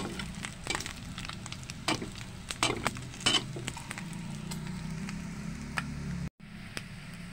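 Pork frying in its own rendered fat in a home kitchen pan for humba, a close, steady sizzle punctuated by sharp clinks and scrapes of a utensil stirring against the pan, ending with a brief silence.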